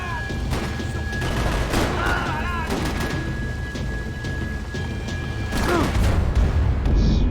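Gunfire in the video game Max Payne 3: bursts of shots and booming impacts come in rapid clusters, loud and close, with a louder barrage near the end.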